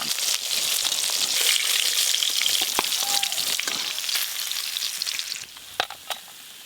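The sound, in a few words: hilsa fish frying in mustard oil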